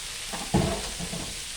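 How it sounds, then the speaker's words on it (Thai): Ginger sizzles as it fries in hot oil, a steady hiss with a brief louder spurt of crackling near the start. "เจียวขิงให้หอมหอมกรอบ"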